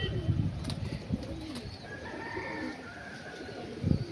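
Malwai pigeons, including a short-bodied young hen, give soft, low cooing in a few brief bursts, faint against a quiet room with light background noise.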